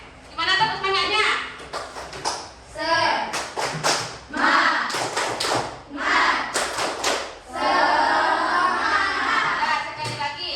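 Children clap in a tepuk semangat cheer routine, loud bursts of rhythmic hand claps arriving in groups between short pauses, mixed with children's voices chanting and an adult speaking.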